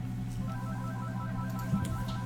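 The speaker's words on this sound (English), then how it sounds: "There goes my phone." A phone rings with a steady tonal ringtone pattern, moderately quiet over a low background hum, with no talking.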